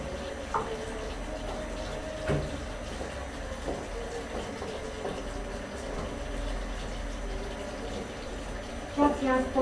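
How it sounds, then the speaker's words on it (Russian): Cold tap water pours over grain in a kitchen, a steady close splashing wash with a few soft clinks and a brief louder burst of movement near the end. "крупу холодной водички налила"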